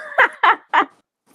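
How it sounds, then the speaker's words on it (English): A dog barks three times in quick succession, each bark short and fairly close, followed by near silence. "Y'all might hear my dog bark."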